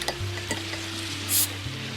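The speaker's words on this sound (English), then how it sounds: "Let's just crack open the beer and see how this thing goes." A Regia Extra beer in a dark, thick glass bottle is cracked open, giving a short bright hiss over a low steady hum with a few faint clicks.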